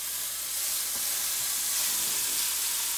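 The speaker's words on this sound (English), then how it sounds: "I had to get my garlic in first. The pan's already warm." Garlic sautés in an already warm pan as the first step of a chili, giving a steady, close, broadband sizzle that holds evenly throughout with no voices.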